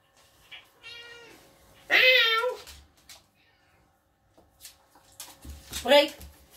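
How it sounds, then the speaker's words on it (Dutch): Cat meowing in two distinct drawn-out cries, fairly close and clear, amid a few quiet sounds and some talking in between. "Poesje komt er ook nog bij."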